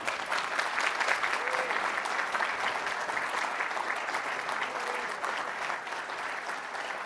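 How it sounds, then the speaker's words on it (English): A conference audience gives a long, warm round of applause, dense steady clapping from a full hall that holds fairly even for about seven seconds with no one talking. "he should be given a very warm round of applause for that"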